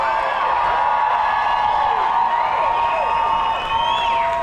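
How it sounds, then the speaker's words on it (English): A crowd at an ACLU No Kings rally in West Palm Beach cheers and applauds loudly and steadily, with whoops and shouts rising over dense clapping throughout. "please join me in giving an enormous second round of applause to Bacardi"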